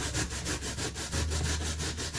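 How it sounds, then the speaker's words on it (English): Sweet potato rubbed up and down on the sharpest side of a grater, giving a quick, regular rasping rhythm of close strokes with no speech. "I'm grating"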